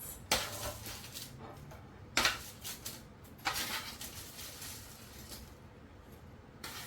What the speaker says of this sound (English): So the potatoes came out of the oven, so I'm going to divide them between the two plates.